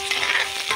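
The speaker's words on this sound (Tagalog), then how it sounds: "Ginigisa ko na ang sibuyas at bawang." Onion and garlic sautéing in a pan for a mixed vegetable and crab dish, a brief close sizzle with a faint stir.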